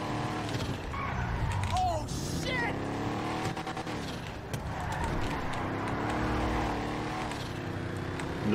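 Car engine running while driving in GTA Online, a steady game-engine drone with shifting revs and a tire squeal, under continuous speech.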